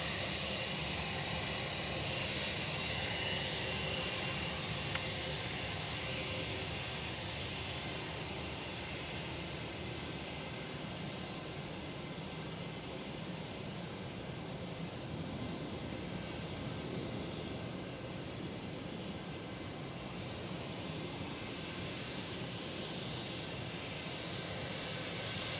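An Emirates airliner roars at Manchester Airport on a windy day, a broad steady jet-engine rumble and wind noise that holds without break.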